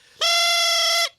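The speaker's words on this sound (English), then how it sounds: "This is called a thrump warbler." A cartoon elf instrument called a thrump warbler plays one sustained, buzzy, reedy note, loud and steady for about a second before cutting off.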